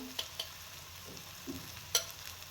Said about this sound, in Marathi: आणि थोडीशी बेडगी पावडर टाकून थंड तेल सुटेपर्यंत आपण परतून घ्यायचं आहे